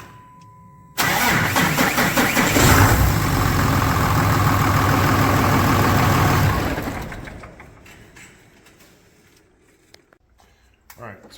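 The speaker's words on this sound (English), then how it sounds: "we got a slow crank issue on the pickup this morning" A Cummins-powered pickup engine with a slow-crank fault cranks steadily for several seconds, loud and close, with a dense repeating churn, then the sound fades away into quiet.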